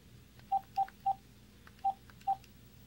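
Moto X phone dialing its own number, five short touch-tone beeps: three in quick succession, a pause, then two more, clear and close.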